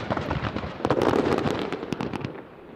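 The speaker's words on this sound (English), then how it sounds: "Fireworks" Fireworks burst behind the drivers at a rallycross finals event in Tierp, giving a dense run of sharp cracks and pops that swells in the middle and fades toward the end.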